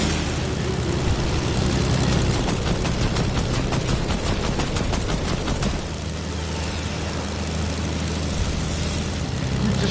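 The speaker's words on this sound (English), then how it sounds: "Oh, you can go back in and take out that plane." A propeller airplane in a PS4 video game: a loud, continuous engine drone runs throughout, with rapid rattling bursts layered on top partway through, and no voices.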